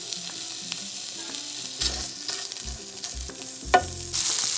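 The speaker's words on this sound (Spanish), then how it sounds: "Ahí vamos a agregar la longaniza. Vamos a freírla." Longaniza sausage fries in a spoonful of oil in a frying pan, a close, steady sizzle and crackle with occasional scraping and knocking of a utensil against the pan and a louder hiss toward the end.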